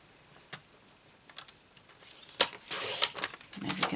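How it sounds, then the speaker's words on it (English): A paper trimmer slices through a sheet of card, a quiet click followed by a brief rasping swish as the blade runs along, with soft handling taps around it. "let me just cut this using my trimmer and get a much nicer line than me trying to cut it"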